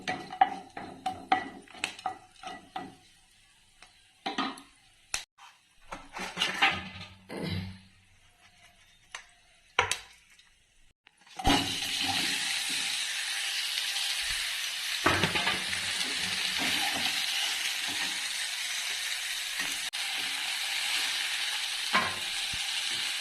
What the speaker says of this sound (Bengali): এখানে তেল দিয়ে দিলাম, তেলের মধ্যে কিছুটা পাঁচফোড়ন দিলাম আর একটা লঙ্কা দিয়েছি।